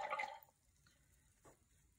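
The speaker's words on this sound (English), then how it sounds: "And then we'll rinse off our brush." A paint brush swished in a water cup gives a brief splashy burst, then a faint tap and a small drip a moment later, heard alone.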